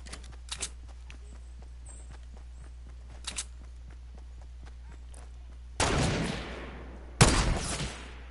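Sniper gunfire rings out in the Fortnite video game as two loud, sharp shots with long reverberant tails, following a stretch of faint, scattered footsteps and light clicks.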